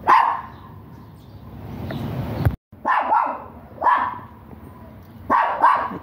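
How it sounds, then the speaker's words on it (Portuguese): A dog in a garden barks repeatedly toward a neighbor's dog, several sharp barks in bursts with short pauses, fairly near and loud with no talking. "E a Fifi já tá chamando o cachorro do vizinho ali, o namorado"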